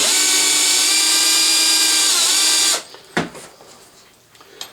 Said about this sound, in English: it does a really nice job of chamfering and deburring the brass